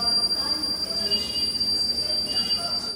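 The Brindavan Express passenger train rolls along the rails with a sustained high-pitched wheel squeal riding over a steady, close rumble.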